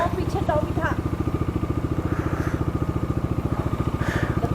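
A motorcycle engine idles and runs steadily with a fast, even thump-like pulse, close and prominent as riders set off in Uttarakhand, while a voice speaks briefly over it near the start.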